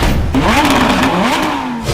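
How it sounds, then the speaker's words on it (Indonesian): A Lamborghini engine roars and revs, a continuous loud mechanical drone with pitch rising and falling through repeated throttle swells, close and steady with no talk. "Lamborghini punya suara mesin yang meraung"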